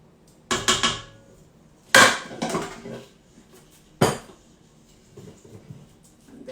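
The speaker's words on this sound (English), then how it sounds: "Give it a good stir." A spoon clatters against a pan while a chocolate mixture for marquesa de chocolate is stirred, giving a few sharp metallic knocks and scrapes in bursts, followed by quieter rustling.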